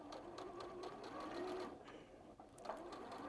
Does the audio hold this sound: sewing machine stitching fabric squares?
yes